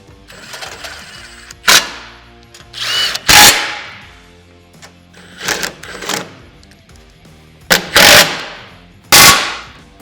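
Power tool snugging bolts on a SuperATV winch mount for a RZR XP, firing in several short, loud rattling bursts separated by quiet gaps, close by.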